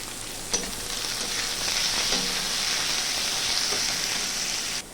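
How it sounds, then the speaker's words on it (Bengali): Chopped onions with a pinch of salt fry over a high flame for a soybean curry, a loud, continuous close-up sizzle with a few scrapes of a spatula. "তো পেঁয়াজটা আমি হাই ফ্লেমে 2 থেকে 3 মিনিট ধরে ভেজে নিয়েছি।"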